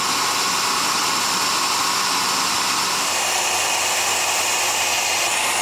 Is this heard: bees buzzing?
no